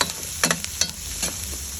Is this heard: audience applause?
no